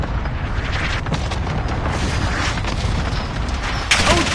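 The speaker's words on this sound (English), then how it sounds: "Enemy cluster strike incoming." Cluster strike explosions in Call of Duty roll out as a dense barrage of booming, rumbling blasts, continuous and loud throughout, with one heavier impact near the end.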